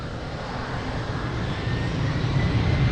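An airliner taking off from runway 02 at Lisbon Airport, a steady broad engine roar with a low rumble that grows gradually louder over a few seconds.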